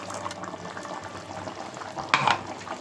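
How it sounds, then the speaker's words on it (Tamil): Curry with ground coconut paste stirred in bubbles at a boil, a soft, busy simmering texture close by with one brief louder splash or stir near the end; no voices. "ஊற்றி ஒரு கிண்டி ஒரு 10 நிமிஷம் நல்லா கொதிக்கட்டும்."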